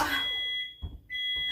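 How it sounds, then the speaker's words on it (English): Steady high-pitched smoke alarm beeping that cuts out briefly, with a faint clatter in the gap, then resumes, fairly close and loud. "I just set off more smoke alarms"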